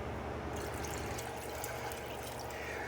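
Fresh water pouring steadily into a cooking pot for a batch of red beans, a continuous close splashing rush with no talking.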